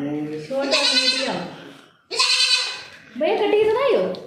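A goat bleats three times in quick succession, loud and close, each call a wavering nasal cry with a brief pause between them.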